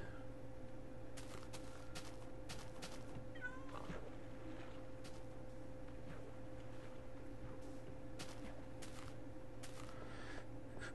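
Several meows from a Minecraft cat sound at moderate loudness over a constant low game background hum, with a drawn-out caterwaul among them and no voices.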